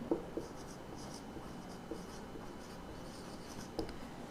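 Chalk or a marker writing on a board, soft scratchy strokes with a few faint taps, quiet against steady room noise.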